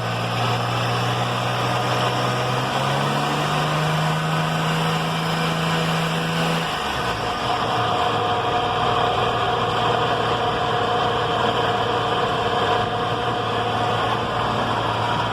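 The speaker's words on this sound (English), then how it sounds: "we have started the car" A Suzuki Cultus 1000cc car engine idles steadily and close by, a continuous droning hum with a slight shift in pitch partway through, heard alone.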